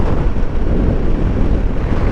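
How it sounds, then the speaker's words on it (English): Strong, brutal wind batters the microphone with a loud, continuous low roar and rumble. "This wind is just brutal."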